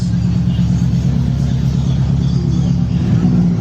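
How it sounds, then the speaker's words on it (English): A Subaru Bug-Eye WRX with a boxer engine pulls away, its low, steady engine rumble loud and close throughout, the pitch shifting slightly near the end. "Subaru WRX headed out. Boxer power in the Bug-Eye WRX."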